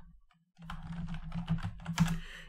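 Fingers type quickly on a computer keyboard, a close run of crisp key clicks following a brief pause.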